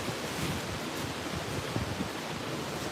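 Steady broadband rumble of wind buffeting a microphone, continuous and fairly loud throughout, with no voices.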